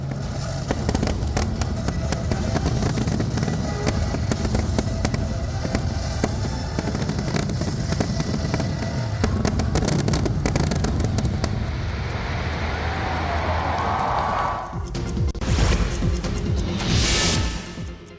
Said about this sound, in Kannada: ಅದ್ಭುತವಾದ ಪಟಾಕಿಗಳ ಪ್ರದರ್ಶನ ನೋಡುಗರ ಕಣ್ಮನ ಸೆಳೆಯಿತು